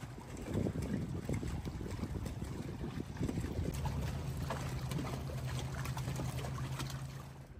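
Gusty wind buffets the microphone with a steady low roar, with a faint sound of lake water lapping beneath it at Lake Bled.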